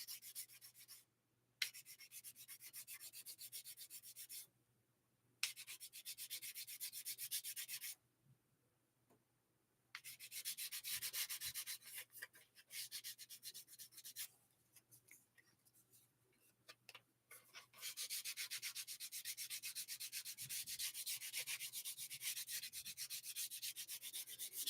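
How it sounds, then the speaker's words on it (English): Steady rasping sandpaper strokes on wood, in long continuous runs broken by brief pauses, close and fairly loud. "Nick, I'm sanding."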